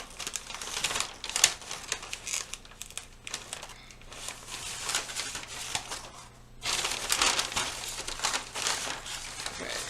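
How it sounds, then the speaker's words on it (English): Paper pattern being folded and pinned at a dart, a steady run of close crinkling and rustling with brief crisp bursts and soft handling noises throughout. "So I'm going to just fold and pin my dart"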